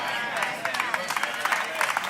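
An audience at a church sermon gives tepid, scattered applause, light clapping running steadily under a speaking voice.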